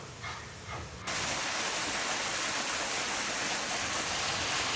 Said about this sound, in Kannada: ಇದೇ ವಾಟರ್ ಫಾಲ್ಸ್ನ ನಾವು ನೋಡೋಕ್ಕೆ ಬಂದಿರೋದು. ಚಿಕ್ಕದಾಗಿರ್ಬೋದು, ಬಟ್ ತುಂಬ ಸುಂದರವಾಗಿದೆ.